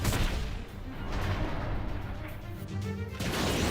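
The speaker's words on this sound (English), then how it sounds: "Oh, it's fireworks." Fireworks burst during a boss fight against Vegnagun in Final Fantasy X-2, a run of rapid booming pops and crackles of even loudness over about four seconds, with no voices.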